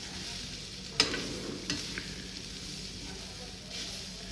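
Sliced snake gourd coated in gram flour is stirred in a sizzling pan. A soft, steady frying hiss runs underneath a few scraping knocks from the spoon.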